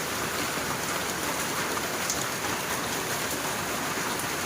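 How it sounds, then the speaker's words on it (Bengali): Heavy rain falls steadily, a dense, even hiss of drops striking surfaces nearby, unbroken and constant with no voices. "আর বৃষ্টি দেখো কি বৃষ্টি আসলো"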